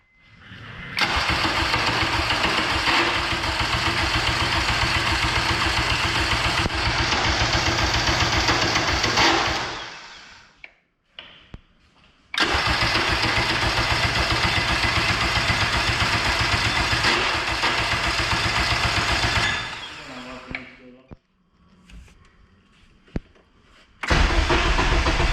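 A Honda K24 engine in an all-wheel-drive Integra cranks on its first start: two long, loud bursts of rhythmic starter whirring, each roughly nine seconds, separated by short pauses, then a brief final crank with no talking.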